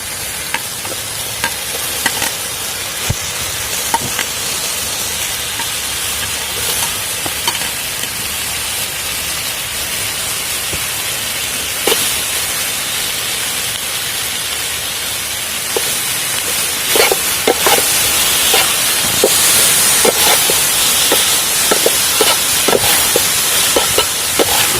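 Tomatoes sizzle and fry in a hot pan for an egg roast curry, with a constant close, loud hiss and crackle broken by occasional stirring scrapes.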